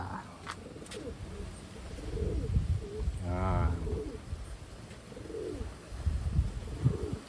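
A Wantai pigeon hen coos softly near the listener, with a few low throaty coos and faint handling noise in between.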